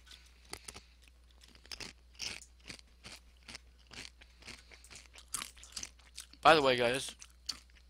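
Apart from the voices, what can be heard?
crunching while eating Doritos chips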